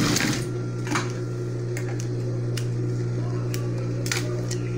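Sewing machine backstitching a seam, a steady close mechanical whir with a low hum and faint clicks running throughout.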